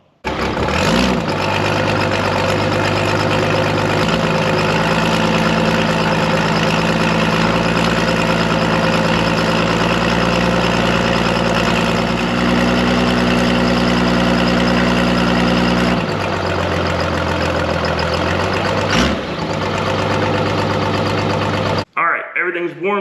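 A 12-valve diesel engine fitted with a huge turbo idles while warming up, producing a steady, loud, low rumble that drops slightly in pitch near the end before cutting off abruptly.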